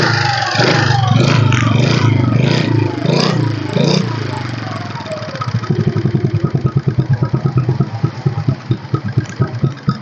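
A 2013 TVS Wego 110 scooter is started by self-starter; a voice talks at first, then the engine settles into a close, steady pulsing idle.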